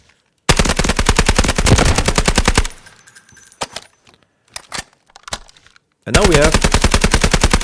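Suppressed gun in a shooter video game firing long sustained automatic bursts from a large magazine, a rapid even stream of loud close shots, pausing for scattered clicks and a brief voice, then another burst.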